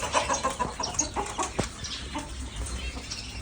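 Chickens cluck and chatter in a pet or livestock pen, several birds making overlapping short calls at close range amid a busy background.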